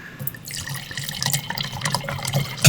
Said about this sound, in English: I'm going to pour me first since they're still drinking.